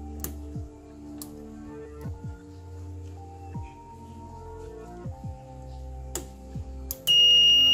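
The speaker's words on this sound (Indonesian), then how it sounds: "buzzer akan bunyi." A 12-volt short circuit protection circuit for a power supply sets off its buzzer, a loud steady electronic tone that begins abruptly near the end after quiet clicks and ticks of handling.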